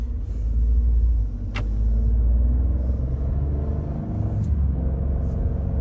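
Ford F-150 Tremor with a 3.5 EcoBoost engine and 10-speed transmission, cruising and accelerating, heard as a loud, steady low cabin rumble with a brief click and no talking.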